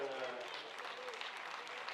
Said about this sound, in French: Applaudissements pour la zone espagnole.